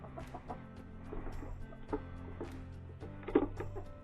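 Several chickens, including a naked-neck hen and a silkie rooster, cluck and murmur close by in a steady, overlapping chatter, with a few louder squawks standing out near the end.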